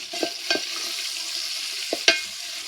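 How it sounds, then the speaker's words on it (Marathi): Drumstick leaves sautéing in a pan, a soft continuous sizzle broken by a few sharp stirring scrapes and clinks of the utensil. "त्याला परतून घेऊ"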